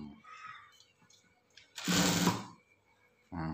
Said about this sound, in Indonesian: Kita jahit langsung terus.